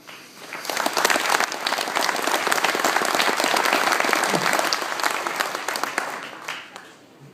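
A crowd at a racing banquet breaks into full, dense applause that swells quickly, holds strong and then tapers off near the end.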